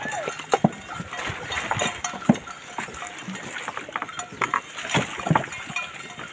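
An ox cart rolls along an oil palm plantation road, with irregular knocks, clops and rattles of hooves and the loaded wooden cart over a steady outdoor background.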